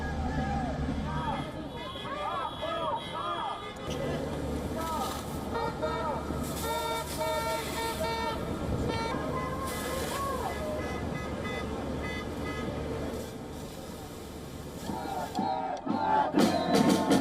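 A dense, loud crowd of anti-government demonstrators in Tel Aviv during a police clash, with chanting voices, shouts and car horns tooting over a continuous roar of babble that swells near the end.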